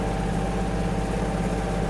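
A Kubota GL-21 Japanese mini tractor engine runs steadily at a low, even drone while the tractor drives over cobblestones, loud and close with no other sounds over it.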